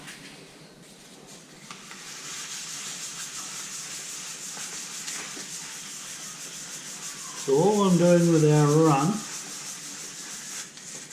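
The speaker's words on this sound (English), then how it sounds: "is just sanding it back to flat" Steady raspy sanding across a primed metal fuel tank of a Honda CBR250R MC19 motorcycle, continuous and close, with a short burst of speech near the end rising above the scraping.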